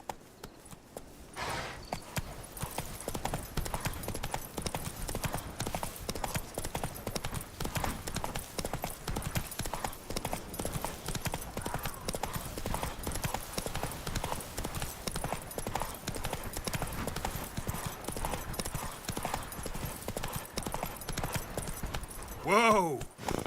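A horse gallops in The Witcher 3, with rapid, continuous hoofbeats drumming loud and close for a long stretch. A sharp whinny-like cry ends the run.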